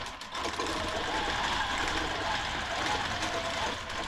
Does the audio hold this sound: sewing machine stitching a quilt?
yes